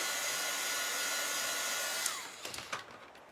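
A hair dryer blows a steady, loud airy roar over chalk transfer paste, then switches off and winds down, followed by a few light clicks and handling taps.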